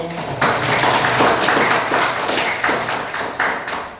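A classroom of students applauding a group after its presentation, a loud, dense wash of many overlapping claps with a lightly pulsing rhythm, close and continuous throughout.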